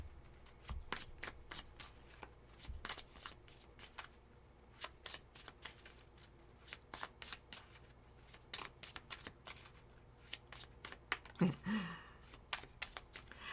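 Tarot cards shuffled by hand in repeated quick riffling bursts, close and fairly quiet, with a brief rustle of handling near the end and no talking.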